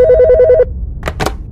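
A telephone bell rings loudly and close in a police station, giving a fast trilling burst that stops abruptly, followed by a couple of brief handling clicks as the receiver is picked up.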